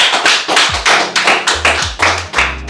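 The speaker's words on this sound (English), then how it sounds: "let's give a round of applause, guys" A small audience claps together after a business talk, a short burst of brisk, uneven applause with sharp overlapping hand claps, fairly close and loud, with no voices over it.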